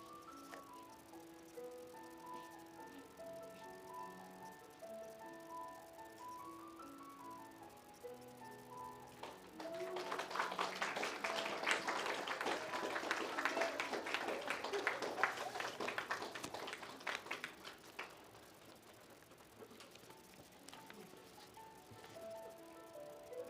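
An audience at an honor society ceremony claps in a sustained burst of applause that swells in the middle and fades, with soft music notes playing underneath before and after.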